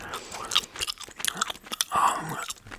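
Close, soft chewing of gum in a quiet whisper-style recording, with irregular wet smacks and small crunchy clicks coming in quick uneven bursts, intimate and near the microphone.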